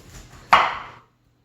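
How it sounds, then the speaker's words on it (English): A single sharp knife chop through broccoli on a cutting board, close and crisp, with a brief ringing decay. "So all I need to do is chop up my broccoli."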